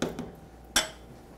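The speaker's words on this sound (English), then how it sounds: "Let's take another stir to our soup" A spoon clinks twice against a pot of soup while stirring, with two sharp, close taps separated by a short pause.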